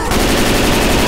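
Rapid automatic gunfire in the zombie shooter Left 4 Dead 2 during a Survival round in The Atrium, a dense, loud, unbroken burst of close shots filling the whole moment.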